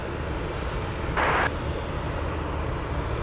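An aircraft at Anchorage airport rumbles in a steady, broad engine roar that swells briefly into a louder hiss partway through, with no one talking.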